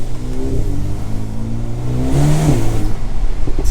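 A Mercedes A35 AMG pulls hard under acceleration, its engine note rising in a steady surge heard from inside the cabin, loud and continuous with no talk over it.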